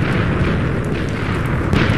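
Video game explosion, a loud sustained rumbling blast that fills the whole moment with no gap, close and alone without talk.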